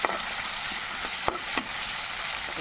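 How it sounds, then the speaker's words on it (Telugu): Fenugreek leaves frying in a pan, a steady close sizzle broken by a few quick scraping stir strokes. "చక్కగా పచ్చి వాసన పోయే వరకు, మంచి స్మెల్ వచ్చే వరకు ఫ్రై చేసుకోవాలి."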